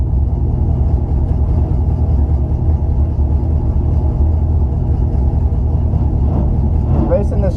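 Chevrolet Camaro SS at a drag strip for an index racing pass, a loud, steady engine rumble holding throughout with a rising rev surge near the end.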